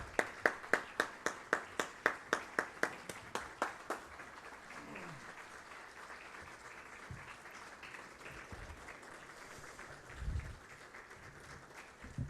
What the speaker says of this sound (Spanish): recibir con un fuerte aplauso a nuestras autoridades